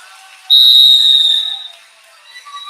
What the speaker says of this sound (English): Gets 3 at the whistle, Pena does